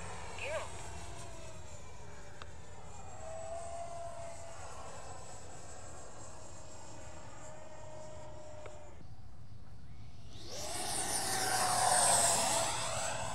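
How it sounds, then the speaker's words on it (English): An Avanti RC fixed-wing plane running on CNHL LiPo batteries flies overhead with a thin electric whine. The whine drifts in pitch as the plane passes, dips briefly, then swells louder and closer near the end. "Here we go, first flight with the Avanti running the China Hobby Line batteries."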